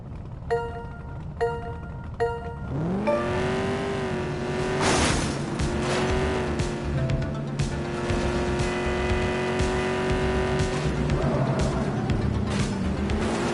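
Cars in the video game The Precinct rev and race close by, engines whining with steady harmonic pitch over continuous tire noise, preceded by a few short rhythmic electronic beeps, loud and sustained throughout.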